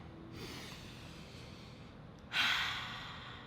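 A deep breath taken close to the mic: a faint airy inhale, then a louder, breathy exhale that fades slowly in a quiet room.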